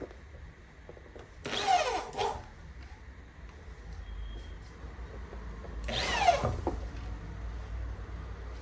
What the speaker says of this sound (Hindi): फिर अपोजिट का बीच वाला नट मुझे कसना है।